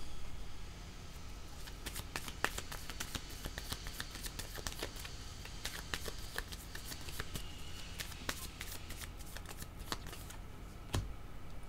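Playing cards are shuffled by hand during a tarot-style reading, a steady run of soft riffling flutters and crisp card snaps, fairly close and alone with no talking.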